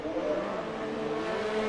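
An F1 2019 race car screams through a flying lap at the Austrian GP in the video game, a steady high engine whine slowly rising in pitch, loud and close throughout.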